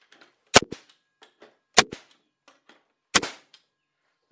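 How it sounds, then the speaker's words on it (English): A nail gun driving 3-inch nails, three sharp loud cracking shots spaced about a second apart, each with a brief metallic ring, close and alone with faint small clicks between. "That's a nail gun."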